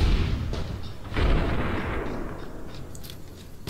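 Loud gunfire booms in a video game as a player fights a legionary assassin among raiders, a heavy blast near the start and another around the second mark, trailing into rumbling echoes.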